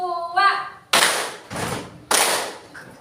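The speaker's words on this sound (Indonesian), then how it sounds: "Tepuk 1, 2, 3 masih." A group claps hands in sharp, loud bursts, three distinct claps spaced about a second apart, following a voice speaking at the start.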